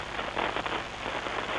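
Steady rain falling on a surface, an even, moderately loud hiss of drops with no breaks or other sounds.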